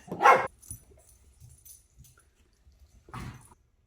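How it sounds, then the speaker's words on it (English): A dog barks once loudly near the start, then quiet shuffling follows before a second, softer bark near the end. "Please excuse our messy house and our dogs."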